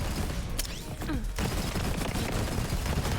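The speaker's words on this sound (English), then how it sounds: "you literally can keep on firing without even reloading" Dense rapid gunfire in Borderlands 3, a continuous rattle of shots mixed with game effects and a whistling sweep early on, loud and close.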